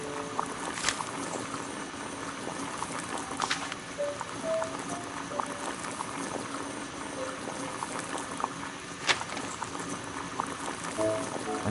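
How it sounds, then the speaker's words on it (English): A kettle of water heats to a boil on a gas burner in a Victorian-era detective game, giving a steady bubbling, rushing simmer with faint clinks and small knocks, continuous and moderately quiet. "Boil water in kettle."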